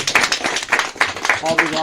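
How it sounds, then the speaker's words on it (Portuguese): A church congregation at a countryside service claps in praise of the Lord, a steady rhythmic run of hand claps blended with voices that keeps going the whole time. "Aplauda o Senhor que ele merece por essa palavra."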